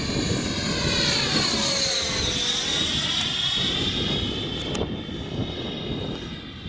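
A Freewing F-5 RC model jet takes off with no flaps, its high electric ducted-fan whine sweeping in pitch as it passes close by, then easing as it climbs away.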